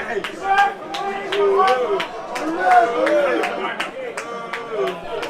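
Spectators shout and chatter at a floodlit rugby sevens match in London, a busy crowd murmur with sharp bursts of voices and claps throughout, fairly close and steady.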